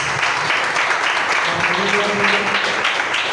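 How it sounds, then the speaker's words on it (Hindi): Loud applause from a church blessing meeting crowd, dense continuous clapping filling the room for several seconds, with a voice speaking over it partway through. "आखिर के लिए जोरदार तालियां बजाएंगे"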